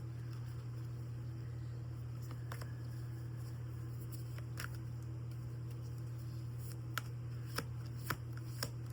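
Tarot cards being shuffled, with soft patter and sharp card snaps scattered over a steady low hum, growing more frequent toward the end; no talking.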